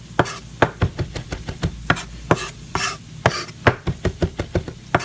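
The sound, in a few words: knife chopping food on a cutting board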